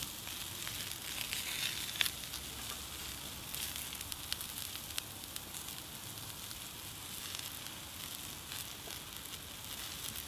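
Sweet potatoes and mixed vegetables sizzle on a hot plancha griddle, a steady, fairly quiet hiss with scattered small crackles and pops throughout, no talking.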